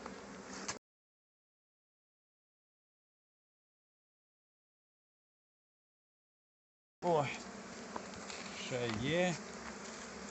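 Honey bees at an apiary buzzing in a steady drone, with a long silent gap in the middle, then a denser hum of insects close by.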